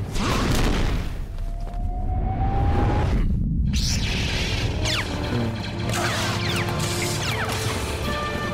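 Tank cannons fire during an animated clone-army battle against a separatist droid army, loud booming blasts and crashes with whooshing projectiles over a continuous rumbling, dense battle din throughout, no talk.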